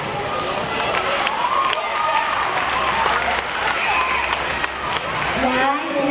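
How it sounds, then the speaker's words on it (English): Audience applause at a school music performance, a sustained burst of many hands clapping filling the room, with some voices and crowd noise mixed in. "Please give them a round of applause."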